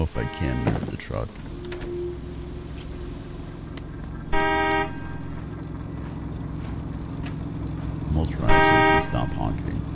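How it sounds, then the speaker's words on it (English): Two short car horn honks sound a few seconds apart on a wintry road, loud and near, with a person talking between them. "Stop honking."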